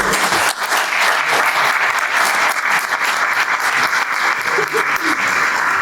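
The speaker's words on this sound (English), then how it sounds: "Can we get a round of applause just for these folks here?" A crowd at a city inauguration ceremony gives sustained, even applause throughout, loud and continuous from start to finish.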